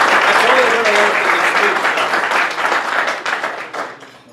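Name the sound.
audience applause at town address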